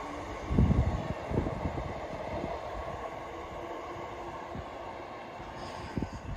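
A Scotrail train pulls away from Blantyre station, a steady low rumble and wheel noise holding at moderate distance, with a couple of louder thumps near the start and faint rail clatter throughout.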